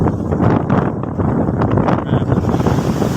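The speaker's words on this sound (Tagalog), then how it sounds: "Sobrang lakas ng hangin." Strong wind roars and buffets the microphone continuously in heavy rain, a loud rumbling gust noise with a faint watery wash underneath.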